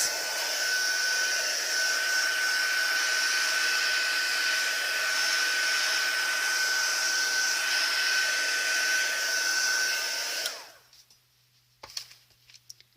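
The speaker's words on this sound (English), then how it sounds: "I'm going to quickly dry this off. I've got my heat tool here." A heat tool blows steadily over glued faux leather for a traveller's notebook, a loud constant whirring hum with a high whine that runs for about ten seconds, then shuts off into quiet with a few small handling taps.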